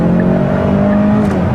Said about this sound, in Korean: 뒤쪽에서 배기음도 나름 들리고요.